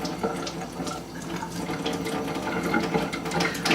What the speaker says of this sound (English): I dampen the brush